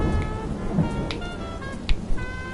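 A thunderstorm with steady rain in This is the Police, a constant wash of rainfall with a couple of brief louder cracks near the end, set under a faint background music tone.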